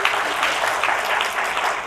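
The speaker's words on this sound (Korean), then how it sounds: "여러분 서로에게 박수 치면서 격려를 한번 해주면 어떨까요?" A church congregation at a year-end service clapping for one another, steady dense applause filling the room, close and even throughout with no talk over it.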